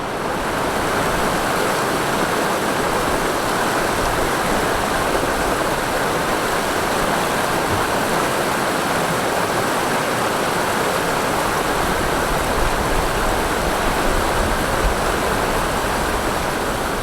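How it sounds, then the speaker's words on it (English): Tilden Lake rapids on a Temagami canoe route give a steady, loud roar of rushing river water that stays constant and unbroken throughout. "So these are the Tilden Lake Rapids"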